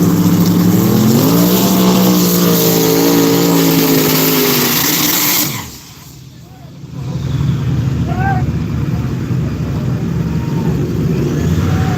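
Engines roar loudly at a drag strip race between a Mustang and a Camaro, rising in pitch as the cars accelerate, then dropping briefly before a steady roar returns; voices can be heard over the noise.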